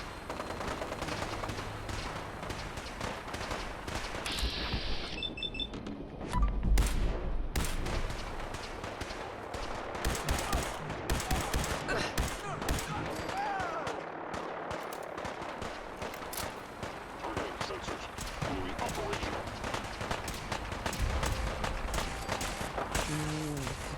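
Dense gunfire in a Fallout 4 battle at Bunker Hill: rapid bursts and single shots crackle continuously for the whole stretch, loud and close, with occasional heavier thumps and voices mixed in.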